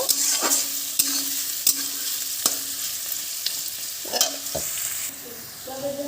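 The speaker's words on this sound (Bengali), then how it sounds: "একটু লাল লাল করে পেঁয়াজটা ভেজে নেব" Sliced onions fry in a pan for a country-chicken curry until reddish, giving a steady broadband sizzle broken by regular scraping stirs of a spatula, close and fairly loud.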